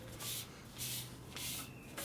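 Cloth wiping dirt off the fender of a 1958 Harley-Davidson panhead motorcycle, soft rhythmic rubbing strokes repeating about four times, faint and close, with no voices.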